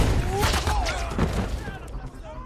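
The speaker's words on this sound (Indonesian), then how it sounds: "Miller memberi tembakan perlindungan dan membunuh satu persatu penjahat ini" Bursts of gunfire with booming impacts crackle through a busy action scene in a sniper film, while a voice talks over the loud shots.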